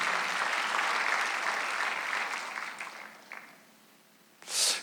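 A church congregation at a Sunday worship service bursts into sustained applause that holds steady, then gradually fades, before a short final swell of clapping.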